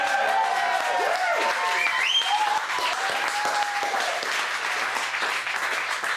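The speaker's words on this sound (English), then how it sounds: "Applause to welcome our guest compere this evening." Steady, loud audience applause fills a small comedy venue as a first-time guest compere is welcomed to the stage, with scattered cheers rising over the continuous clapping throughout.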